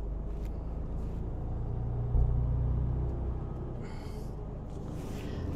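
A truck rolling out of a truck stop onto the road toward Bordeaux, a steady low engine rumble with a brief louder surge midway and faint hiss bursts near the end.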